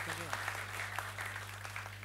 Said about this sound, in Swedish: Också under applåder, OSK-applåder.